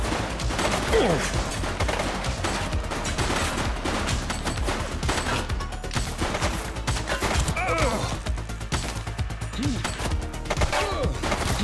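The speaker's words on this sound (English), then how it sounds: "He's shooting!" Gunfire in The Precinct police game crackles in dense, continuous volleys of rapid shots over steady background noise, sounding close and loud throughout, with occasional shouted voices mixed in.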